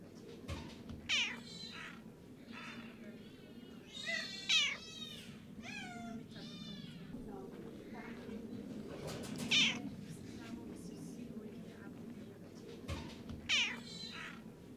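Several cats on an island meow in short, separate calls spread across a low background hum, some close and bright and others quieter, with no talking.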